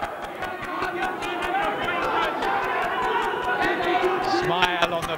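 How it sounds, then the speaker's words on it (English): An excited boxing crowd at a Dazzo Williams vs Jamie McKeever bout, fans chattering and shouting for both fighters in a dense, steady roar, with sharper cheers and claps rising near the end. "plenty of crowd noise. They're very excited, shouting for both their men"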